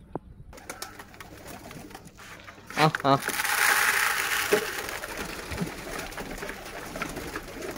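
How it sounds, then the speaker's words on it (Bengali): Local domestic pigeons in a home loft give soft cooing amid rustling, wing flutters and clattering, close by, with someone talking over part of it. "এগুলো সবগুলো দেশি কবুতর।"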